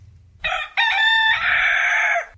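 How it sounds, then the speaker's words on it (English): A rooster crows loudly and close by, one full cock-a-doodle-doo that rises sharply and holds a long strained final note before cutting off, with no talking. "I'm worried about the last section of that crow."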